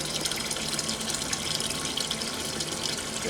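Water runs steadily from a hose flushing out an NFT hydroponic system during a water change, a continuous broadband rush that stays loud and even throughout with no voices.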